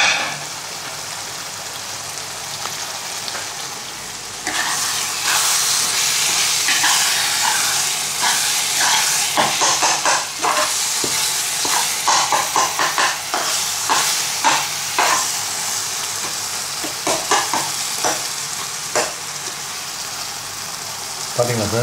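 Prawn thokku stirred and frying in a pan: a steady sizzling hiss throughout with repeated scraping, clattering stir strokes, close and fairly loud, no talk over it.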